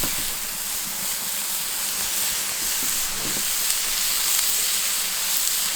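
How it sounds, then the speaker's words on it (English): Lamb shawarma kebab burgers sizzle on a hot BBQ plancha, a steady, even hiss of frying meat that stays close and constant throughout with no talking. "On the nice hot plancha, pop these lovely kebab burgers on."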